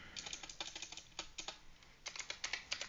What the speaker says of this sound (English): you're going to type in WireGuard